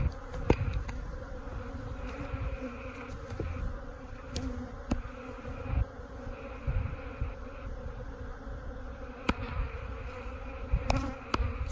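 Honey bees swarm and buzz steadily around an opened hive during frame work, a dense continuous drone with scattered sharper taps and clicks of handling close by.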